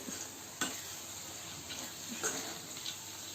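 Soaked beans frying in oil in a pan, a faint low sizzle with a few sharp ticks and scrapes of stirring spaced across it.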